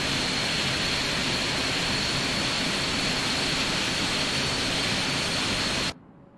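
A jet airliner flyby in the X-Plane 11 flight simulator game, a loud, steady broadband engine roar with a faint high whine that holds evenly and then cuts off abruptly near the end.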